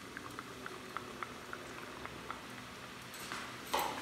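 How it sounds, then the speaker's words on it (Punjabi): Namak pare dough bubbles gently in oil over a low gas flame, a soft, quiet frothing with regular small ticks, swelling into a louder burst of bubbling near the end as more dough is added. "ਹੁਣ ਮੈਂ ਲੱਗੀ ਇਹਨੂੰ ਫਰਾਈ ਕਰਨ"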